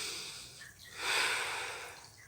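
A single deep breath drawn in and released during a guided breathing exercise, a soft airy rush that swells in the middle and tapers off, close and alone with no talking.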